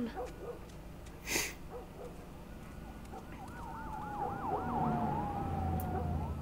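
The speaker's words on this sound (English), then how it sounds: "Sounds like police cars." Police car sirens in the video game The Last of Us wail in the distance, a warbling rise-and-fall that starts midway and sweeps repeatedly over a low rumble of background noise.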